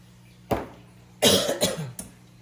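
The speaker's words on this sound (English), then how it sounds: "I did not cough in the food" A few sharp coughs, one single then a quick double, close up in a quiet room.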